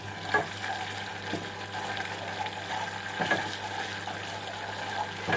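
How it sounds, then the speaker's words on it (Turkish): Tomato paste frying in a pan, giving a steady, moderate sizzle and crackle with occasional louder pops and stirring clatters, close by and continuous with no talking. "Sadece salçayı kavurup sulandıracağım."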